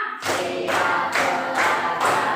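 A classroom of students claps in unison for a counting game, loud broadband bursts arriving in a regular rhythm of about four strong group claps, close and dense.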